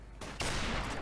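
Gunfire in the video game Call of Duty Modern Warfare Remastered: a dense, loud burst of shots that swells after a brief rise, heard as one continuous muffled volley with no talk.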